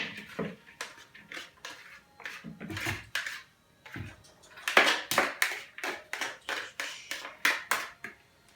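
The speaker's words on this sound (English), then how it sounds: "I'm going to put all my veggies in the bowl" Chopped vegetables for tabbouleh salad dropped and scraped into a bowl, a quick series of close clattering knocks and taps that grows busier and more rhythmic toward the end.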